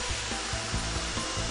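A mini circular saw cuts through stone tile such as ceramic, stoneware or marble, giving a steady, loud, continuous whine with rhythmic low thumps as the blade bites, and no voices.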